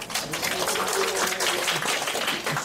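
An audience at a lecture applauds to welcome a presenter, bursting into a lively, dense spell of clapping that stays loud and even throughout with no speech over it.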